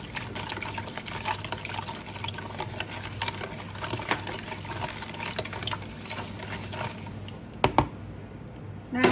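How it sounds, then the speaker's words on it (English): Sourdough sandwich bread ingredients with sugar are mixed together: a steady low mechanical hum under wet scraping and sloshing, with a couple of sharper knocks near the end, close by and with no talking. "Now I'm gonna add sugar into the ingredient. Mix everything together."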